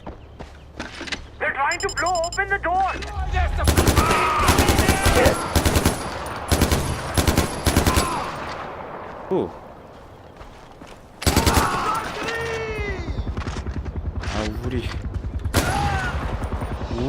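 Gunfire in Far Cry 4 comes as rapid automatic bursts and sharp single shots mixed with game sound effects, while a player talks excitedly over the action.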